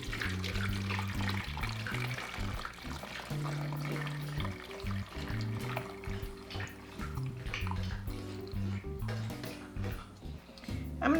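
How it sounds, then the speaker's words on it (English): Cooking liquid from Instant Pot pulled BBQ chicken pours into a fat separator, a steady splashing trickle close by, continuous and fairly soft. "So I'm putting this through my fat separator."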